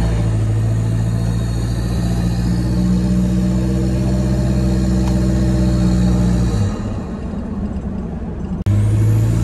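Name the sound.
Toyota Hilux with snorkel driving up a hill, exhaust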